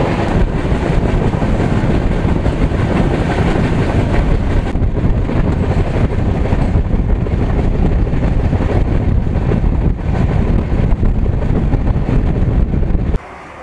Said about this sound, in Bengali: বালেশ্বর স্টেশন থেকে এক্ষুনি গাড়ি ছেড়ে দিল পরবর্তী স্টেশনের উদ্দেশ্যে।